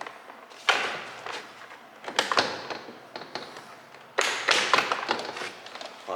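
Plastic trim of a Honda Accord rear door panel being pried off its metal clips: a few sharp taps and thuds, one around the start and a stronger burst of clunks and snaps later, with rustling handling noise in between, close and fairly quiet.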